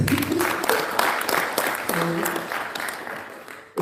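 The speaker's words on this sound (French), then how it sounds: "Vous pouvez l'applaudir." An audience at an arts-for-peace awards ceremony applauds a second-place laureate, with a burst of clapping continuing for several seconds under a speaking voice before it trails off.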